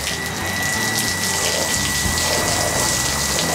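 Water poured over denim jeans to rinse them during hand washing, a close, continuous splashing gush that runs steadily throughout with no speech.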